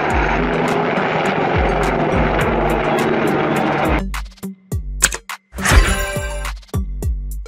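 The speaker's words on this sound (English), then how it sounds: "Army helicopter." An army helicopter's rotor thumps in a fast, regular chop, loud and close, then the engine cuts back into separated thuds and brief bursts before it surges again.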